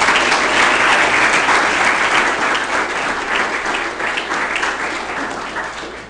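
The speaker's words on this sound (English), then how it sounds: "let's just give a round of applause to all the organizers" Steady, full applause from a conference audience at the opening session of a science communication event, thanking the organizers, dense and even throughout with a slight taper near the end.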